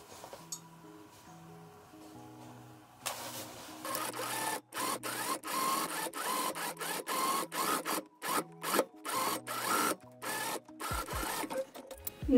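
Domestic sewing machine stitching interfacing onto a skirt waistband: a close, rapid mechanical chatter in repeated bursts with short pauses, after a quiet stretch of hum at the start.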